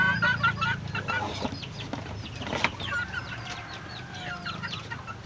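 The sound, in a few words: young roosters (stags) clucking at feeding time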